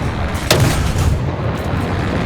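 Gun of an Sd Kfz 251/10 half-track firing in War Thunder, a single loud close shot with a sharp blast followed by a rumbling tail over steady engine noise.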